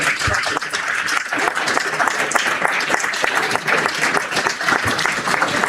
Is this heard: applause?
yes